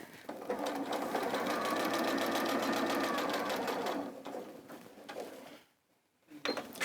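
A sewing machine runs in a steady, rapid mechanical whir for several seconds, then slows and stops before a brief restart.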